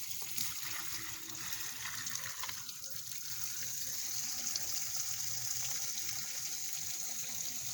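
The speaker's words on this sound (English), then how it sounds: "Now, let's get it rinsed." Tap water runs steadily into a kitchen sink, rinsing a freshly cleaned bluegill fish; a continuous close gush with a faint splashing hiss throughout.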